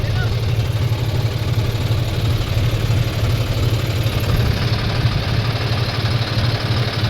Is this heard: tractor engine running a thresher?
yes